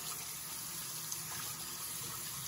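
Tap water runs steadily into a sink as someone wets their face before a wet shave, a quiet, even hiss with no talking over it.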